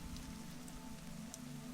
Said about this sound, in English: The rain came down steady and heavy and straight, hour upon hour of it